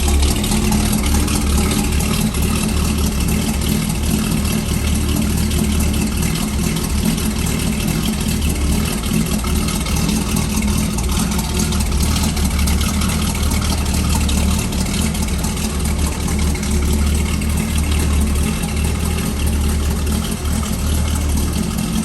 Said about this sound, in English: Nice dual exhaust sound.